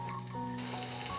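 Thinly sliced onions with a little salt hiss and crackle steadily in hot oil in a pan, a close, continuous sizzle with no voices over it.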